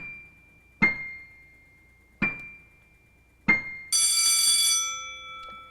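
Three separate struck bell-like tones sound one after another at an even pace, each ringing briefly and fading, followed by a brighter, denser sustained tone that slowly decays; a short musical demonstration of pitches a whole step apart, with no talking.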